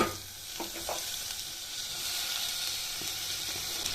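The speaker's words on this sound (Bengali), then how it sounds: "এবার আমি এই পেঁয়াজের মধ্যে এই লম্বা লম্বা করে যে আলুগুলো কেটে রেখেছিলাম সেই আলুগুলো দিয়ে দিচ্ছি" Long-cut potato slices go into browned onions in a hot pan, raising a steady, soft sizzle with a few light clinks and stirring scrapes over the hiss.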